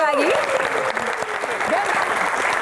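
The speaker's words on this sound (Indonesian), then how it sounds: "Tepuk tangan sekali lagi." Dense studio audience applause on a TV talk show, loud and sustained for the whole stretch, with a voice speaking over it.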